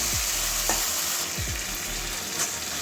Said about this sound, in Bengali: এবারে দু তিন মিনিট কষিয়ে নেবো কাঁঠালের বীজটা